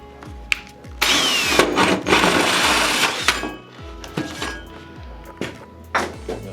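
A 3.5-inch hole saw bites into a wall with a harsh, gritty grinding burst that runs loud for about two seconds, then trails off into a few scattered knocks and scrapes.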